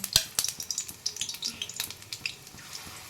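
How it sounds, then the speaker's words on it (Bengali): Pumpkin flower and onion fritters frying in oil in a kadai give off a close, crackling sizzle with a run of sharp pops and spatters. "আমি এবার কুমড়ো ফুলের পেঁয়াজগুলো ভেজে নেব"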